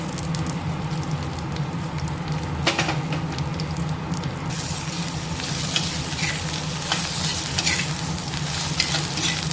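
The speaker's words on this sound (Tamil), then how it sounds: "வெண்டைக்காய் நல்லா வதங்கிருச்சு." Cut okra fries in sesame oil with a constant close crackling sizzle, overlaid by repeated scraping and clattering strokes of a spoon stirring the pan, steady throughout with no talk.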